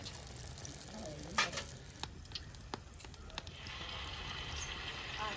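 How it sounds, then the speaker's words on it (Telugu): Batter for pongadalu, a sweet, is dropped bit by bit into hot oil and fries with a steady bubbling sizzle, broken by a few sharp crackles and spits near the start. "అలా లోటాలోకి తీసుకున్న ఆ మిక్చర్ని హీట్ ఎక్కిన ఆయిల్లో ఇలాగ కొంచెం కొంచెంగా వేసుకోవాలి."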